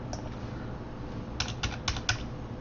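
Numbers typed on a computer keyboard during an image resize: a handful of quick, close key clicks, mostly bunched together near the end over a steady low background hum.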